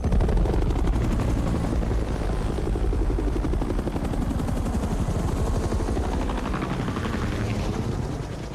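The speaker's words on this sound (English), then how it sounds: "they're real helicopters." Real helicopters thunder close overhead, rotors beating in a fast, steady rhythm that stays loud throughout and eases slightly at the end.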